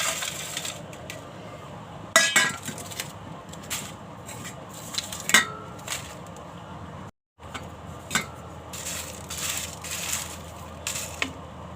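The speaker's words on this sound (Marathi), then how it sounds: "आता हे भाजायला टाकते" Whole garam masala spices rattle and scrape in a dry pan as they roast, with irregular clinks, crackles and stirring bursts over a low background hum, briefly dropping to silence partway.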